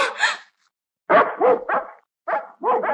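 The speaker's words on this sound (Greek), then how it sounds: "Τα 50 πεινασμένα σκυλιά!" A pack of hungry dogs barks in a Greek stage drama, a short burst of barking followed by a pause and then a rapid run of several loud, close barks.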